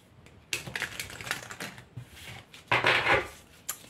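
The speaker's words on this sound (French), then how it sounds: "Je vais tirer des cartes concernant cet as de coupe" Tarot cards are pulled from a deck in a burst of close papery flicks, snaps and rustles, with a louder shuffling swish near the end.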